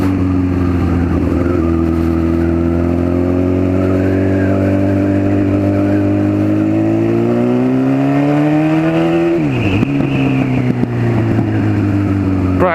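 Honda Fireblade sport motorcycle engine revving while riding, a loud close high-pitched drone that climbs steadily through a gear, drops sharply at a shift, then pulls again.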